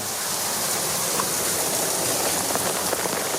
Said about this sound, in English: Look, it's raining.